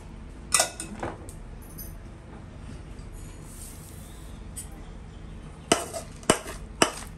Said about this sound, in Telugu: మళ్ళీ ఒకసారి మంచిగా మిక్స్ చేసుకుందాం